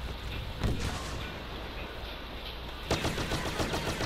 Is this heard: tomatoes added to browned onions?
no